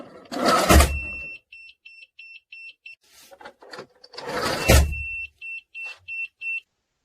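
An alarm buzzer from a model car's accident detection system built around an Arduino circuit, sounding in short repeated high beeps in two runs, with loud thumping handling noise between them.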